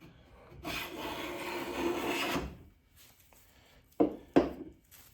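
A Stanley hand plane pushed along a wooden board peels off a shaving in one long rasping stroke, followed by two sharp knocks of the plane being set or lifted, close and clear.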